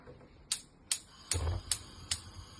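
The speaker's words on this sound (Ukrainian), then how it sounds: "потім включити плиту" Five sharp clicks in an even rhythm, about half a second apart, like a stove's igniter snapping as it is switched on.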